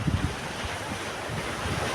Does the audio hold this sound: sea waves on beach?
yes